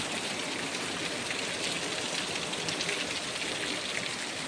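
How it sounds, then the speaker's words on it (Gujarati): Heavy rain falls steadily over a village field, a dense and constant hiss with no breaks, loud and close, with no voices. "ફૂલ વરસાદ એકદમ આવી જાય છે"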